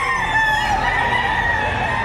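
A rooster crows loudly and close by at a livestock auction market in Padre Garcia, Batangas, one long drawn-out call filling the whole moment.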